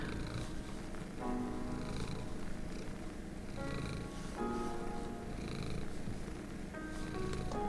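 A cat purrs right beneath a microphone, very close and soft, in a continuous rhythmic rumble with regular breath cycles and no one speaking.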